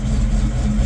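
Supercharged 1995 Ford Mustang GT with a T56 gearbox idling on a cold engine, a brief steady low rumble heard up close.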